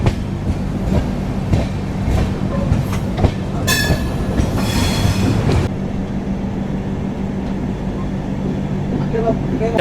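An AC double-decker train runs between Tirupati and Visakhapatnam, a steady interior rumble with clattering wheels and a short burst of squealing metal midway, with people talking faintly underneath.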